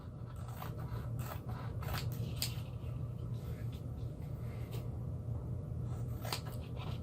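Scissors trimming the sticky edges off a sheet of masking tape, a series of close, crisp snips at irregular intervals over a steady low background hum.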